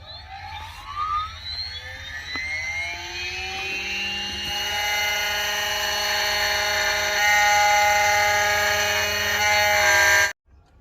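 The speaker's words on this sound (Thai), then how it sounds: "ขั้นตอนการ สร้างดอกกุญแจขึ้นใหม่ นะครับด้วยเครื่องทำกุญแจระบบอัตโนมัตินะครับ" An automatic key cutting machine cuts a new blank for a Chevrolet Colorado, a rising motor whine settling into a loud, steady high-pitched grinding for several seconds before stopping abruptly.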